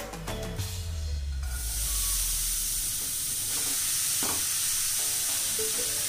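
Grated carrot sizzling and frying in a kadhai for carrot barfi, a steady loud hiss with stirring scrapes throughout, close by and alone with no talk.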